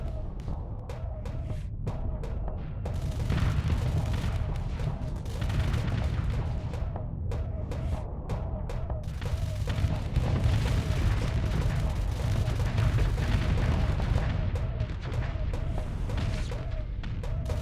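Gauss cannons firing in the space combat game Starsector, a rapid run of heavy booming shots over a dense low rumble that keeps going steadily throughout.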